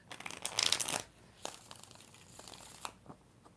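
Tarot cards are shuffled by hand: a crisp, rustling burst of riffling cards, then softer scattered flicks and slides close to the microphone.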